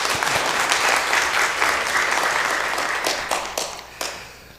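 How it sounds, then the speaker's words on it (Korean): A standing church congregation at a Sunday service in Suwon applauds to welcome a newly appointed choir member. Full, steady clapping fills the room, then thins and fades with a few last scattered claps. "우리 잠깐 자리에 일어서시면 박수로 축하하겠습니다"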